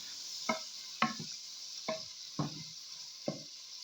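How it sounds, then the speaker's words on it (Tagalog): String beans and eggplant are sautéed in a pan, with a steady faint sizzle and five clear scraping stirs of a utensil spaced about half a second apart, and no voices. "So this is saute string beans with eggplant."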